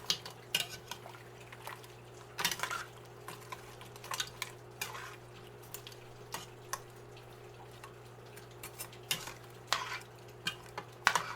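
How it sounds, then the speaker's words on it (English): Curried shrimp and vegetables are stirred in a pan, with repeated scraping and clinking of a utensil against metal over a low, soft sizzle, heard close and alone. "I'm going to go ahead and get this all stirred"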